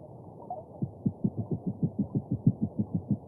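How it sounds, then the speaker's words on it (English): Underwater recording of fish producing a steady train of low knocking pulses, about four per second and evenly spaced, moderately loud over a soft background hum, with a brief sharp click at the very end. "A bit like a boat, maybe, but it is a fish sound."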